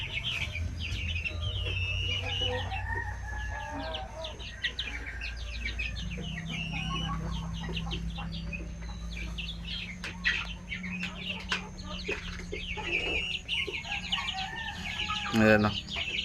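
Native chickens on a farm raised for meat cluck and murmur steadily throughout, with occasional sharper calls and other birds chirping, a continuous close flock sound with a voice faintly in the background.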